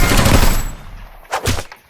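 X-Shot Rage Fire toy blasters fire loudly in a rapid burst of close, rattling shots, then pause briefly before a shorter second volley, with no voices.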